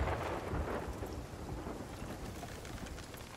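Thunder rumbles through a storm, a deep rolling roar mixed with steady rain hiss, heavy and continuous throughout at a distance from a boat at sea in a headwind.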